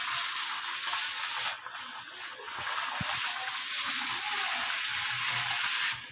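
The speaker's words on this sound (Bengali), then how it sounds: "এখন আমরা এগুলো ভেজে দেখাবো" Homemade frozen chicken balls fry in hot oil with a steady, close, bright sizzling hiss that runs unbroken and fairly loud, with a few faint clicks underneath.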